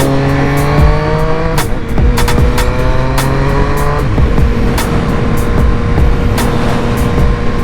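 Triumph Speed Triple 1050 motorcycle accelerating hard, a loud, close engine whose pitch climbs steadily through a gear change under heavy wind rush.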